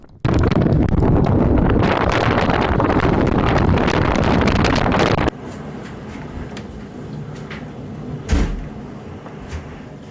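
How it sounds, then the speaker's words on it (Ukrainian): Strong gusty storm wind roars and buffets loudly for several seconds, then drops to a softer rushing background with a sudden thump partway through, in Rivne, Ukraine. "А вітер був сильний"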